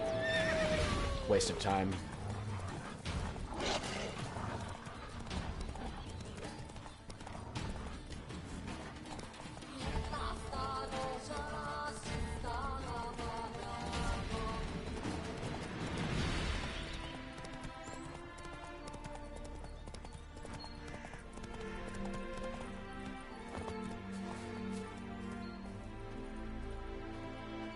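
Roach, the horse in The Witcher video game, whinnies and clip-clops at a gallop amid game music, with a voice talking over the hoofbeats throughout.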